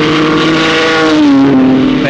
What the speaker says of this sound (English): A Le Mans-type start to the Tourist Trophy race at Goodwood